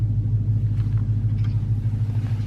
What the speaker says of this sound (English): I hear the exhaust and it sounds really good, like a really deep rumble